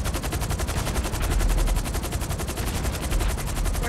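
Rapid automatic gunfire from the video game Grand Theft Auto 5 Online rattles in a fast, even stream of loud shots lasting several seconds, without a break and with no talking.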